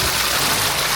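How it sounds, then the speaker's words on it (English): A New Zealand rainforest waterfall roars as a steady, dense broadband rush of falling water, loud and close, unbroken by voices. "This waterfall"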